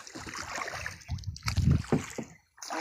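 Oars pull a boat through water in a video game: irregular splashing strokes and gurgles of moderate loudness, a louder cluster midway, then a brief pause before the water sound resumes.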